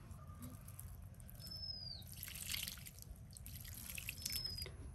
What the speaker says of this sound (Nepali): अब यसमा म पानी लगाउँछु।